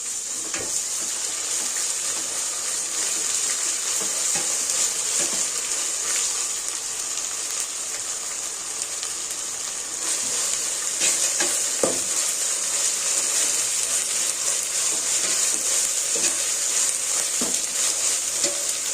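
Onions fry in a pan as ginger paste goes in, a loud, steady sizzle with bright hissing throughout and occasional scraping and tapping from a stirring spoon.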